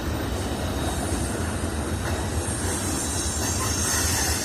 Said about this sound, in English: It's a mixed freight train.